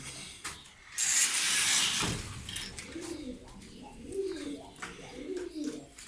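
Pigeons coo softly in low, throaty bursts amid rustling and flutters, with a brief louder hiss of wings early on.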